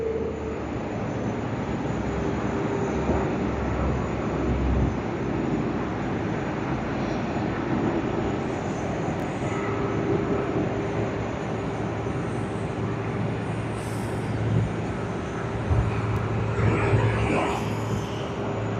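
An airliner lands at Sydney Airport with idle thrust reversers, a loud, broad, steady engine roar holding throughout with slight swells, heard from outside at a distance.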